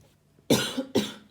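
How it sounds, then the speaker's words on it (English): A woman coughs twice in quick succession, close and loud, each cough a sharp burst after a brief quiet start. "coughing"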